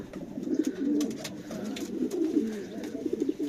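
Racing pigeons coo steadily in a loft's young-bird section, with soft overlapping throaty calls repeating throughout, close and moderately loud, with no talking.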